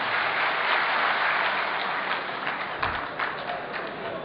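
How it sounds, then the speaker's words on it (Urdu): An audience claps steadily at a mushaira poetry gathering in Qatar, a dense wash of applause that thins slightly toward the end. "آپ کی تالیاں اس بات کی گواہی دے رہی ہیں"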